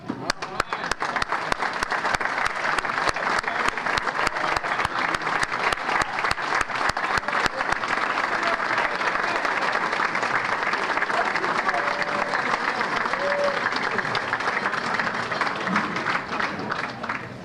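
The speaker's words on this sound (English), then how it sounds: "And yes, you may applaud." Audience at a Lorain Sports Hall of Fame enshrinement banquet breaks into loud, sustained applause, with distinct sharp claps early on settling into a dense, steady wash of clapping that fills the room for the whole stretch.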